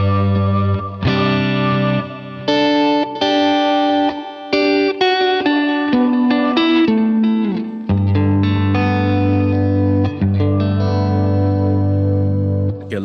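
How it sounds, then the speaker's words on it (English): An electric guitar through a Strymon BigSky MX on the chorale reverb setting plays a sequence of ringing chords and notes, washed in shimmering chorus and lush reverb that lets each strum bloom and sustain. "And let's go to, let's say, the chorale reverb."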